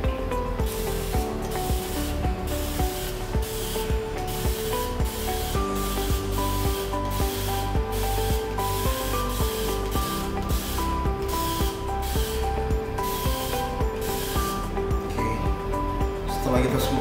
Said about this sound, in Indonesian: nanti kita spray atau kita semprot.